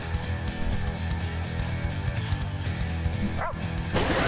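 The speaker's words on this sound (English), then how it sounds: "looks like the dogs are angry now" Angry dogs bark, yip and whimper in the video game Pyre: repeated loud, close barks over a steady, dense backdrop of game sound, ending in a brief noisy burst.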